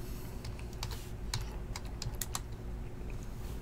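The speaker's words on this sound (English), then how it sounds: "Let me type that down." Fingers type on a computer keyboard, a quick irregular run of close, crisp key clicks over a low background hum, with no talking.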